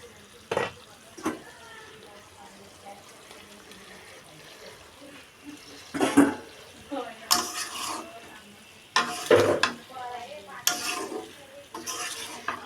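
Fish pieces dropped into a pan of cooked-down masala, with a few sharp splashy sizzles and clattering stirs rising over a low simmering background, close and sporadic.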